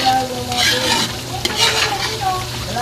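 Coconut oil cooks and is stirred in a pan, with a steady sizzle and repeated scraping stir strokes, close and fairly loud throughout.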